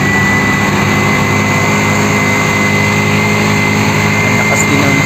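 A vehicle engine labors loudly and steadily while climbing a steep mountain road toward a high sea-of-clouds viewpoint, a constant close drone with rumble and wind noise and no pauses.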